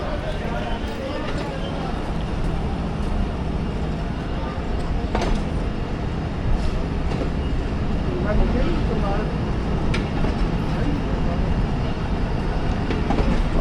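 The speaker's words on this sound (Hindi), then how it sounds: "डिपार्चर हो रहा है लाला मूसा जंक्शन से" Awam Express train pulling out of Lala Musa Junction, a steady loud rumble of rolling stock with faint rhythmic clatter throughout, voices and station noise mixed underneath.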